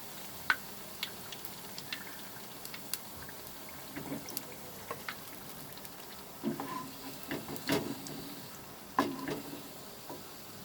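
Coriander pakoras frying in hot oil, a steady soft sizzle with scattered small pops and crackles throughout, fairly close and continuous.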